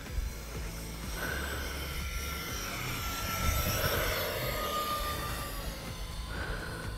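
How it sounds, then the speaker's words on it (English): An E-Flite F-14 Tomcat RC jet makes a full-throttle pass down a runway, its ducted-fan whine rising and peaking mid-pass with a thin high tone, then easing off as it moves away. "Here's a full throttle screaming pass down the runway."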